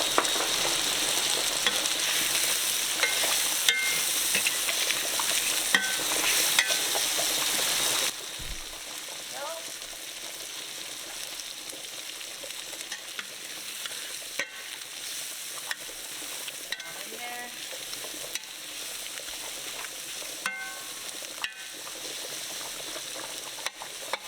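Sliced onions frying in olive oil, a strong bright sizzle that drops to a softer, steady crackle after the first few seconds, with occasional clicks and scrapes.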